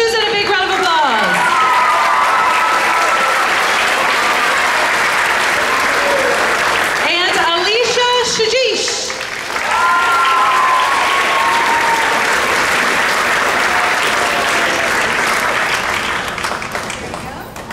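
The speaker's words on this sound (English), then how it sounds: "Give her, Susan, a big round of applause." A school awards-ceremony audience applauds a seventh grade soloist named Susan with sustained, loud clapping and cheering, and some voices talk over it.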